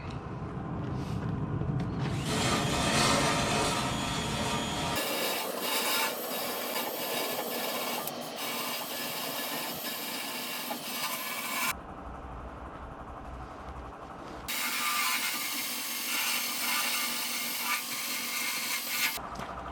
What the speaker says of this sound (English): I totally forgot that I have this little drum sander bit that goes on a drill